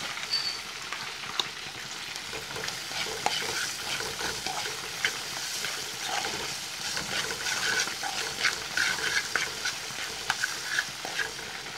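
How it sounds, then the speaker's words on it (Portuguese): Onion frying in a pan, a dense, bright sizzle with scattered crackles and spatters throughout, close up and steady, with no voices. "Eu vou fritar agora a cebola."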